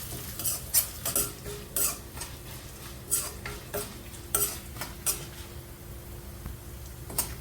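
Dry red chillies and dal frying in a tempering for aval pidi kozhukattai, heard as a soft oily sizzle under repeated clinks and scrapes of a spoon stirring the pan, with no voices.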